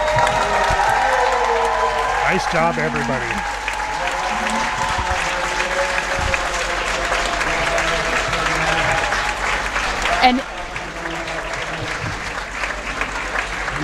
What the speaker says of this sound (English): Listen to all these cheers for the finishers.